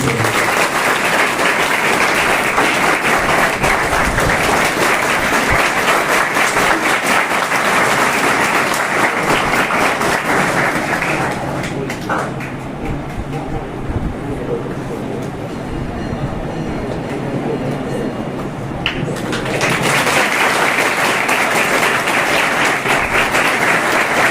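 Sustained, loud applause from a large audience at a school farewell ceremony, continuous for more than twenty seconds and briefly softening in the middle before swelling again.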